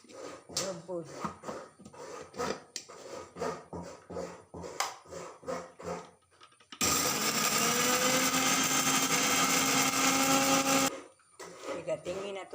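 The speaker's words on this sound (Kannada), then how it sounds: "ಮಿಕ್ಸಿಯಲ್ಲಿ ಹಾಕಿ ರುಬ್ಬುವುದು." A kitchen mixer grinder whirs loudly and steadily for about four seconds while grinding grated coconut, with someone talking before and after the burst.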